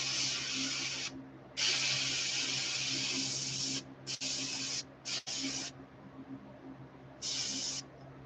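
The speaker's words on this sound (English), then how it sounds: "I got a little more overspray there than I wanted to" An airbrush sprays paint onto a shoal bass swimbait lure in a series of close hissing bursts, some long and some short, with quiet pauses and a low hum beneath.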